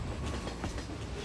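Freight train wagons roll into a large car factory, delivering loads of steel along its rail network; a dense, steady rumble of rolling stock fills the whole moment without pause, with no voices.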